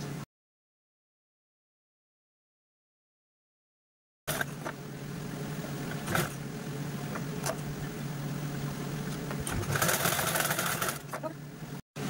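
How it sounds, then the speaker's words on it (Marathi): A sewing machine stitches along the edges of saree lace, running steadily after about four seconds of silence, with a few brief knocks and a louder stretch near the end. "आता आपण कडेकडेने स्टिच करून घेऊया व्यवस्थित."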